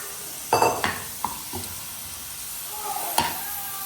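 Mutton sizzles in a pan with masala while a spoon stirs and scrapes against the metal in a few distinct strokes, over a soft continuous frying hiss.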